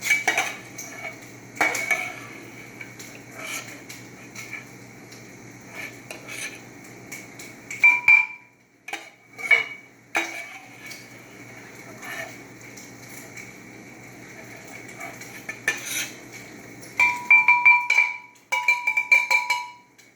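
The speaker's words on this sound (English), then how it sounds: "I'm using a strainer here. Take them out of the vegetable broth, put them in a blender." Cooked vegetables are strained out of vegetable broth and dropped into a blender, with metal scrapes and clinks of a strainer and utensils against pots in irregular bursts, close by, between quieter pauses.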